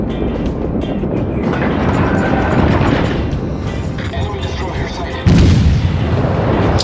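Naval guns firing in the World of Warships video game, heavy rumbling booms rolling through a dense low roar, with a loud blast near the end, while players talk over the action.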